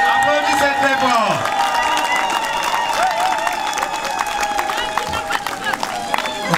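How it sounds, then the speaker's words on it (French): Wedding guests at a Baha'i marriage burst into loud, sustained applause and cheering, dense clapping over crowd chatter with tonal sounds threading through, steady for several seconds. "Applaudissements très fort"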